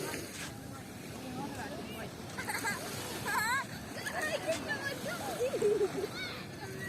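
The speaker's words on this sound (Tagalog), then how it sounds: "Nagbubuhusan na sila ng tubig" People splashing water on each other at a sandy beach in Kuwait, with scattered splashes and sloshes heard close by under wind noise, while several voices chatter and shout over them.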